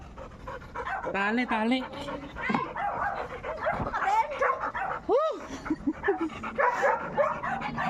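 A golden retriever freshly rescued alive from landslide rubble pants and whimpers up close, with thin yelps breaking through while several people talk over it throughout.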